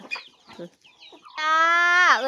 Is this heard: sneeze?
no